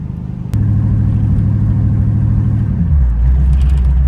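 A stout first-gear car with regular suspension rolls over a very bumpy road, a loud continuous low rumble of engine and road noise that starts abruptly and shifts lower near the end.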